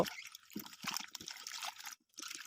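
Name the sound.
washing cut sweet potatoes with water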